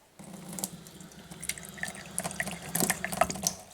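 Water runs steadily from a filtered tap with good pressure, splashing and dripping in a continuous close wash with small irregular spatters.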